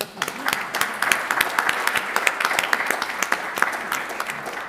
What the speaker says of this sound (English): I think we can applaud because he's online.